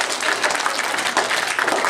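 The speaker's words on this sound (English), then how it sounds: "let's have a round of applause" An elementary school audience applauds after a guitar demonstration, giving a brief, lively burst of many hands clapping at once that stays loud and even for two seconds.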